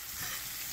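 Steak and onions browning in a pan give a brief burst of steady, hissing sizzle, close and fairly quiet, with no voices.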